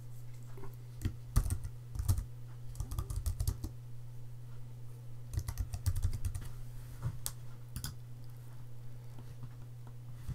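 Typing on a computer keyboard to enter a description, quick bursts of close, fairly quiet key clicks in irregular runs with short pauses between, over a faint steady hum and no talking.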